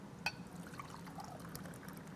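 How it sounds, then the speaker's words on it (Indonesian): Water is poured from a glass onto mangosteen peel in a blender jar, a faint trickling splash with a small clink at the start, quiet and close. "ini kita tambah air 2 gelas"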